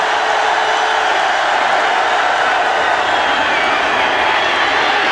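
A big football stadium crowd at Ole Miss in Oxford, Mississippi, roars steadily during a 2007 college game against Florida, a loud, dense, unbroken wall of cheering throughout.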